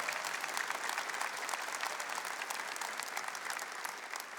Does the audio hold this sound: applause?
yes